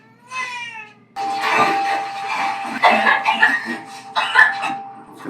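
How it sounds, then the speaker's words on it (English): A person coughs in a tense drama scene, giving several harsh, rough bursts after a brief high-pitched wavering cry at the start. "I can hear you coughing."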